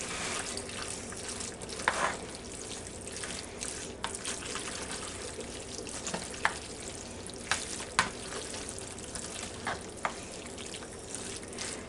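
A stiff spatula stirs pasta with ground beef in a pan, giving soft scraping and clicking strokes at an irregular pace over a steady low sizzle, with occasional sharper knocks.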